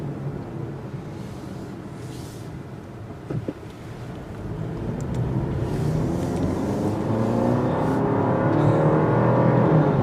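A 2022 Jeep Grand Cherokee Trailhawk 4xe engine idles, then revs and rises in pitch as it pulls away, with wind buffeting the microphone.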